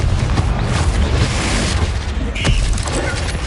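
Confringo fire spell explosions in the video game Hogwarts Legacy, loud booming blasts and crackling bursts over a dense rumbling battle mix, with a sharp impact near the end.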